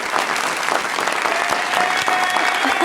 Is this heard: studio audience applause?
yes